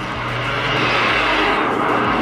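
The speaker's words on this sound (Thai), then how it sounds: "เครื่องบินนะครับ" A video-game airplane drones steadily with a low engine hum and broad rushing noise, moderately loud and continuous, with no talk over it.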